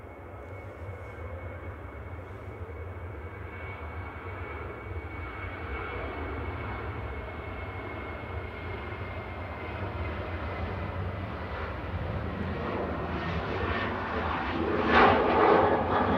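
A Virgin aircraft on approach to Manchester Airport drones steadily in the distance, a low jet-engine rumble that swells slightly louder toward the end, with no voices.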